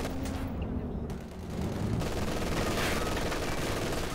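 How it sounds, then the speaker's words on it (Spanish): Emplaced machine gun fire in the Company of Heroes 2 wartime battle, a dense, continuous rattle of rapid bursts blending with other gunfire and rumbling combat noise throughout. "ametralladora apostada"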